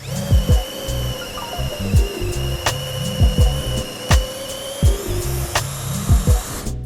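Bursts of a Makita or Bosch angle drill boring into material, a high whine with repeated sharp spikes and short pauses, close and loud with no talking.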